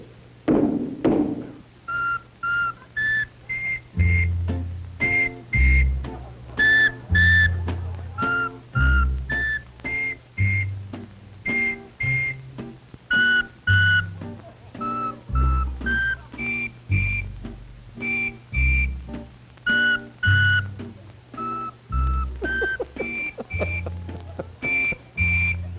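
A run of whistles demonstrated at the New York World's Fair, sounding as short, bright, repeated toots in a steady rhythm with dull thumps between them, loud and close, with no voices.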